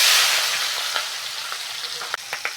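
Tomato dropped into hot oil already holding onion and green chili for a Bengali fish curry with taro and potato, a loud burst of sizzling that slowly settles, with a few small pops and utensil taps near the end.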